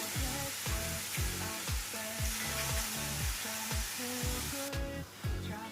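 Oyster mushrooms fry in a pan with a steady broadband sizzle, overlaid by repeating melodic background music that carries through the whole stretch.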